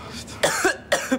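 A person coughs twice in close succession, each cough a sharp harsh burst, close and fairly loud, following a brief faint breath.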